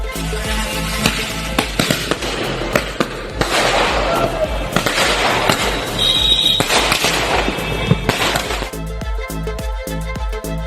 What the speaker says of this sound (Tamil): காரின் மேற்கூரையில் வைத்து தொடர்ந்து வெடிக்கும் வானவெடியை வெடிக்கச் செய்தனர்